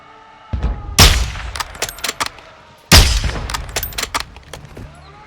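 Call of Duty MW2 in-game combat: two heavy mortar-like blasts land about two seconds apart, each followed by dense, sharp bursts of rapid gunfire crackling close by, with a low rumble between volleys.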